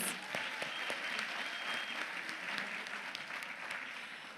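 Audience applause at the 23 ALPHA graduation ceremony for the choir, gumbo dancers and poets: a steady, dense wash of clapping from a crowd, sustained at an even level for the whole stretch.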